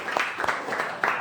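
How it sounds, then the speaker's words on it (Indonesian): A classroom of students clapping for a discussion group, a short burst of lively applause close by with a voice mixed in. "Beri aplaus untuk kelompok 5"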